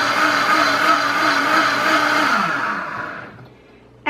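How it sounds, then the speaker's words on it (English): A countertop blender purees butternut squash soup with a loud, steady motor whir that wavers slightly, then winds down and stops near the end. "we let it cool off a bit and then we blend it till smooth"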